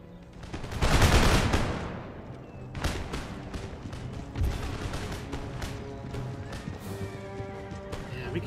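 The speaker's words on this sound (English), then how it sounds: "ready and fire." Musket volleys crack out in Empire: Total War, a big loud burst of massed fire followed by scattered sharp shots and crackling rounds continuing in an uneven rhythm, with faint battlefield clatter underneath.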